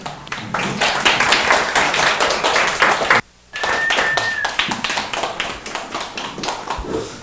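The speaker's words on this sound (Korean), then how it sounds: "다시 한번 뜨겁게 환호하면서 박수로" A lecture-hall audience at an academy study talk claps steadily for several seconds with a few shouts, then breaks off briefly and resumes with dense applause; a whistle-like tone and voices appear during the second burst.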